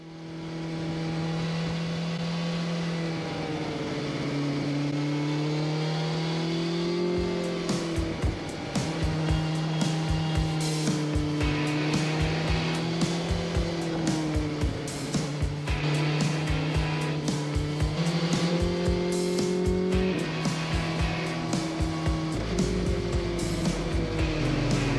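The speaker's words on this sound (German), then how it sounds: "Kaum eine Phase, wo das Moped aufrecht fährt." Motorcycle leaning through a mountain pass in the Allgäu with 125 bends, its engine note steady and continuous, rising and falling with each curve under loud wind rush.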